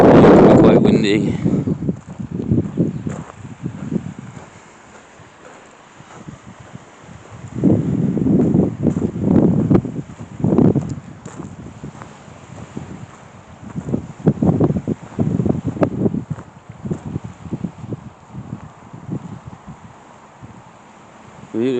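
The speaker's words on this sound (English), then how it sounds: "It's real windy." Gusty wind at a small beach on Bassenthwaite Lake in Cumbria buffets the microphone in loud, close, surging rumbles that rise and fade repeatedly, with faint voices underneath.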